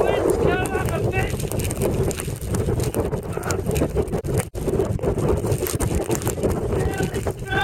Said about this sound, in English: Wind's coming up a bit.